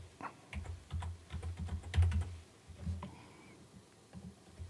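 Typing on a computer keyboard, entering a short label in Storyline 360 software, as a quick close run of soft key taps in uneven bursts with brief pauses.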